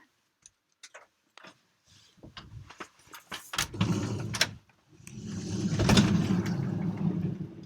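A door on a van used as a living space swings open with a few light clicks and rattles, followed by a steady rush of open outdoor air overlooking a river.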